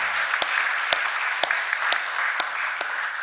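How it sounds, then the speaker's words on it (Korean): A church congregation claps in praise to God, even applause lasting a few seconds, with distinct louder claps punctuating the crowd. "또 하나님께 영광의 박수 올려드리겠습니다"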